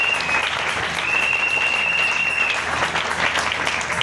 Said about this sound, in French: Acclamez Jésus-Christ.